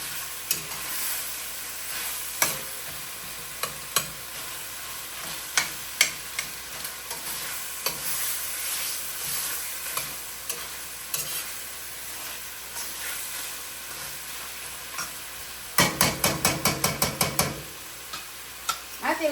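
Bicol Express cooking in a pan, stirred with a steady hiss of frying punctuated by scattered utensil taps, then a quick burst of rapid rattling clicks near the end, close and without talk.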